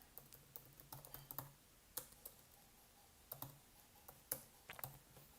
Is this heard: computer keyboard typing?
yes